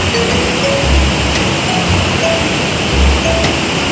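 Water rushes steadily below Wawa Dam in Montalban, Rizal, a loud continuous roar that does not change from start to finish.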